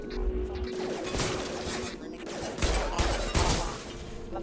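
A machine pistol fires in Mass Effect 2 amid a firefight, with dense rapid bursts of shots and impacts crackling continuously up close, heavier thumps breaking through in places.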